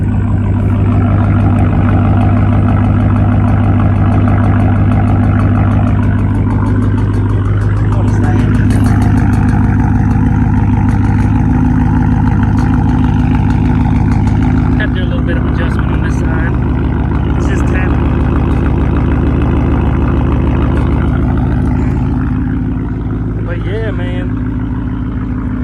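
Ford F150 with a 5.0 V8 and Borla ATAK exhaust idling up close, a loud steady rumble that runs throughout with someone talking over it.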